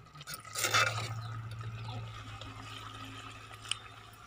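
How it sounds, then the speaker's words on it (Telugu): A small amount of water is poured into a pot of chicken curry with broad beans and tomatoes, a brief splashing pour near the start that fades into quiet residual sounds. "ఇప్పుడు వాటర్ పోసుకుందాం."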